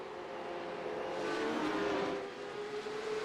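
Porsche Cup race cars roaring off the start at Adelaide, a dense field of engines building into a sustained, swelling drone that peaks mid-way and holds steady, with no voices.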